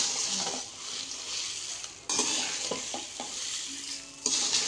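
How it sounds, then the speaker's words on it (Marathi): Chillies roasting with coriander seeds in a pan for homemade masala, a loud continuous sizzle with a few stirring scrapes and spoon taps, close by and without talk. "मिरच्या पण भाजून घेतल्या"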